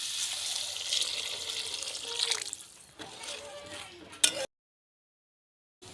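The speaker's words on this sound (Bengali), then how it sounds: "এবার সিদ্ধ করার জন্য জল দিয়ে দিচ্ছি" Water pours into a pot of chicken soup with peas and vegetables: a steady rushing splash for about three seconds, then a softer trickle, a brief clatter and silence.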